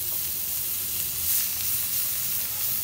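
Chopped onion, capsicum and corn sauté in a pan over a low flame, giving a steady, close hiss of sizzling that runs evenly throughout with no one speaking.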